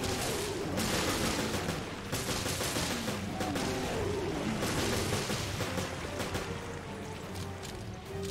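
Steady, dense gunfire fills Resident Evil: Revelations, shots cracking close and constantly over a thick, roaring combat background with no pause.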